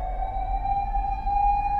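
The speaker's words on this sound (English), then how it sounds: "Fire engine." A fire engine's steady, sustained siren tone holds one pitch throughout with a faint low rumble beneath, loud and unbroken, with no talking.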